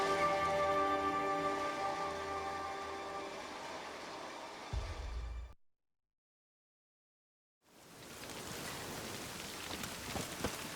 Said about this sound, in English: Oh, raining again.